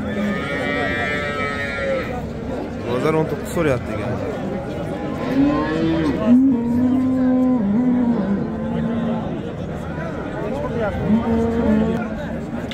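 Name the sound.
cows mooing at a livestock market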